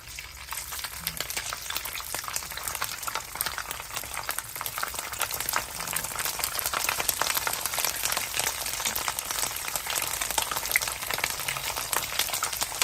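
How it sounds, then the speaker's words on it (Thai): Sun-dried beef slices dropped into hot oil in a pot, giving a loud, steady crackling sizzle of deep frying that fills the whole stretch without pause, close up and with no talking. "น้ำมันก็ร้อนแล้ว็จะเอาเนื้อลงนะครับ"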